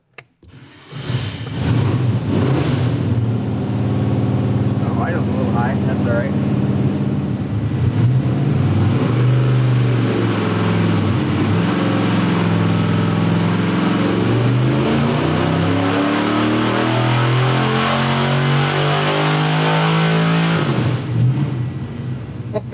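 Carbureted small block Chevy V8 fires up and runs loud and close for about twenty seconds, idling high with rising and falling revs before shutting off.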